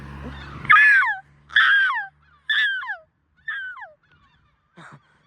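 Loud gull-like calls, four strong harsh cries in a row about a second apart, then a fainter short one, close and clear against a quiet background.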